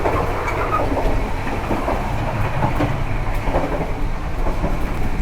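Steady rumble and rattle inside a moving economy-class passenger train on the Jakarta to Jogja and Solo route, with continuous clickety-clack of wheels on rails and rolling low noise filling the whole stretch, no voices.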